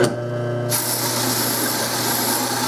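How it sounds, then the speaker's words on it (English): A rake dragged against a spinning buffing wheel to dress it for first use on musical instrument work, a steady close grinding hiss over the motor hum that sets in abruptly after a short quieter whir. "This is how you prepare a buffing wheel when you use it for the first time."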